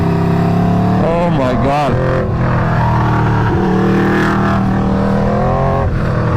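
An Aprilia RSV4 motorcycle fitted with a 520 chain and sprocket roars while being ridden, its engine loud and close, with rising and falling revs. A rider exclaims briefly over the noise.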